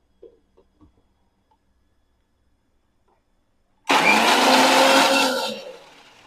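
A mixer grinder blending mango pulp with a little milk whirs loudly after a few faint knocks, running steadily for about a second and a half before winding down.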